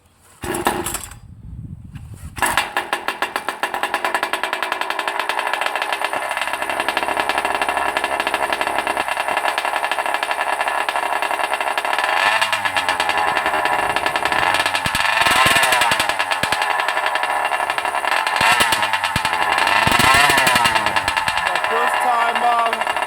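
A 47cc OBR gas engine runs steadily during its break-in, a continuous buzzing drone that starts after a brief pause and holds loud and close, with slight revving swells toward the end.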